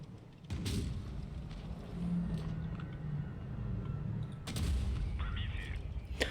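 A heavy tank cannon blast from an Object 260 in WoT Blitz booms out, followed by a sustained rumbling roar and a second sharp report partway through, with faint voices in the background.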